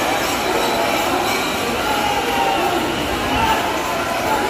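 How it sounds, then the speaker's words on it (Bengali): A train pulls into Howrah station on a crowded platform during heavy rain and a pilgrim rush, a continuous loud rumble blended with crowd noise and people talking. "শেওড়াফুলি যাওয়ার ট্রেন ঢুকছে হাওড়া স্টেশনে আমাদের"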